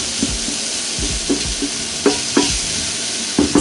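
Onions and cumin sautéing in a pan, a close, loud steady sizzle punctuated by rhythmic stirring scrapes and taps, with no speech.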